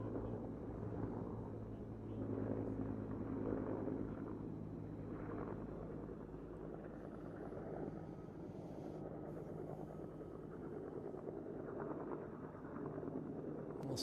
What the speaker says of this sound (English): Here comes another bucket chopper.